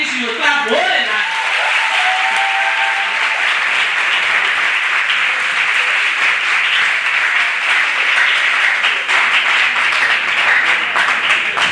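Applause from an audience at an International Women's Day celebration follows an inspirational speech, sustained, loud and close, a thick wash of clapping with voices faintly mixed in.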